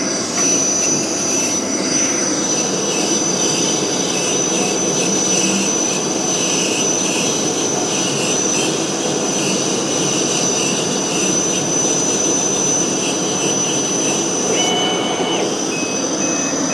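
A laser machine cuts wooden marquetry pieces, giving a steady, continuous whirring hum with a thin high-pitched whine that holds evenly at moderate loudness throughout, with no voices.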